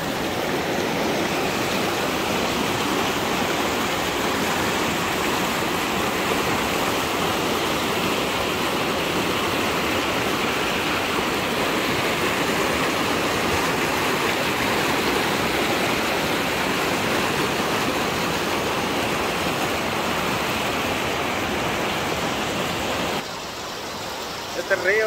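A wide river flowing through forest in North Carolina along the Tennessee border, a loud, dense, unbroken rush of water close by that stays constant throughout.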